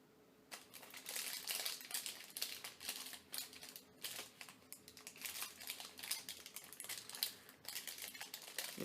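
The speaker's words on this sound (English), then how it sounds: "So you fold them all to the right." Paper folded flat while shaping an origami fractal flower, giving dense, continuous crinkling and crisp rustles with frequent sharp creasing snaps, close and fairly quiet, with no talking.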